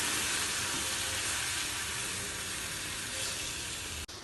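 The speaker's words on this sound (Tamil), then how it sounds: "இப்போ இது முழுகிற அளவுக்கு நம்ம பசும்பால் ஊற்றிக்குவோம்" A steady loud sizzling hiss as cow's milk is poured onto sautéed beetroot in a hot pan for beetroot halwa, continuous for several seconds and breaking off abruptly near the end.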